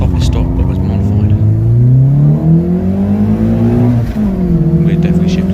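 A modified Mk2 Golf GTI 16v pulls hard through a 0-60 mph run, its engine note climbing steadily in pitch, dropping at a gear change, then rising again. The sound is loud and continuous, with no pauses.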